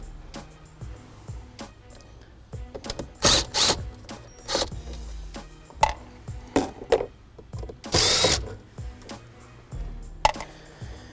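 Phillips head screws being removed from the dashboard pocket of a 2014 Honda Accord, with close, irregular plastic clicks, taps and rattles and a few louder scraping handling bursts, without speech.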